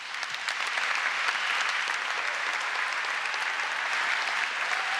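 At a university summer graduation ceremony, a hall full of people applauds as an honorary Doctor of Laws degree is conferred, continuous moderately distant clapping that stays level throughout with no talking.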